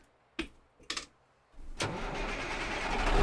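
A modded truck in American Truck Simulator starts up: a few short clicks and cranks, then the engine catches and settles into a loud idle that swells steadily, with no talking.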